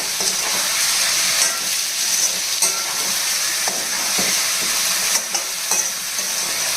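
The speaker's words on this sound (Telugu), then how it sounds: "బాగా కలపాలండి" A brinjal and prawn curry gets stirred in a pan with a spoon, giving steady scraping and stirring under a continuous loud sizzle, with a few sharper clinks of the spoon against the pan.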